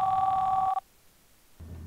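Mobile phone ringtone rings loudly with a steady tonal melody for under a second, then cuts off into near silence before low background rumble returns.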